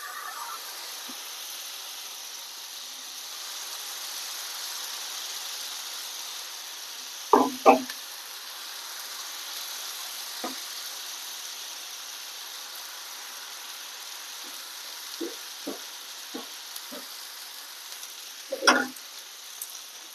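Suji cheela batter cooks on a pan over lowered gas with a soft, even sizzle and hiss throughout, broken by a few brief taps and clicks nearby.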